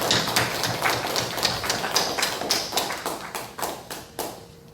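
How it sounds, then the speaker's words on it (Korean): Applause from a church congregation during a Sunday worship service, a steady patter of many hands clapping at moderate volume, tapering slightly toward the end. "하나님께 영광의 박수를 올려드리겠습니다"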